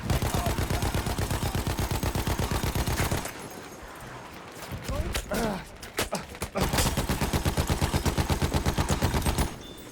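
Rapid, loud, evenly paced automatic gunfire from the video game Battlefield 1 on the Seddülbahir map, close and sustained, breaks off for a few seconds of scattered shots and noise, then resumes in another long steady burst.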